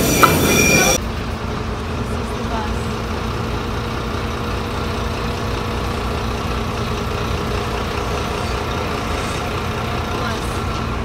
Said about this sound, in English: we're about to hop on the Northern Line and start taking the trains